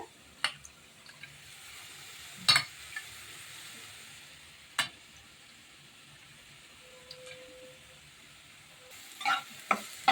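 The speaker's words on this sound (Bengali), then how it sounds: "আর এইদিকে আমার আলুটা ভাজা হয়ে যাচ্ছে" Potatoes fry in a pan with taro flower nearby, a faint continuous sizzle under scattered sharp clicks and knocks of utensils, close and quiet throughout.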